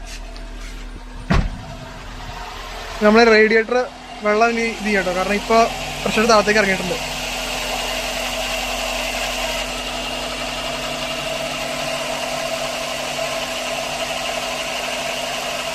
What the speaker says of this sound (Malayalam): നമ്മുടെ വണ്ടി സ്റ്റാർട്ട് ചെയ്തത്